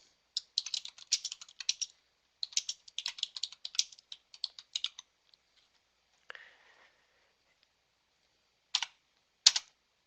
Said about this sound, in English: I'm going to type the description of the page here.